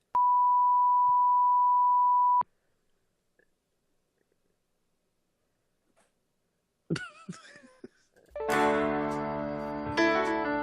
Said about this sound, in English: get ready with a beep